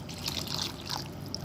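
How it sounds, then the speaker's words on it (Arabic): Warm sugar syrup is poured over cooled kunafa, a soft, faint trickling stream of liquid that runs steadily throughout without any voices. "دلوقتي هننزل بالشربات على الكنافه"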